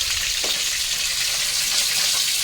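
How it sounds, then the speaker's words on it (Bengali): Steady, bright sizzling of fish frying in hot oil in a pan, continuous and close, with no voices. "মাছ ভাজা প্রায় হয়ে এসছে"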